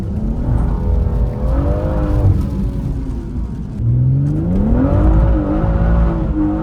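A BMW M140 engine revs loudly up close, its pitch rising and falling through a couple of throttle blips over a steady rumble.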